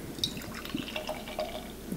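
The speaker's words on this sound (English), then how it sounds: "I did pour a little slightly aggressive there for a second" Double IPA beer poured briskly into a glass, a close, bubbly splashing and trickling of liquid with small drips, steady throughout with no talk.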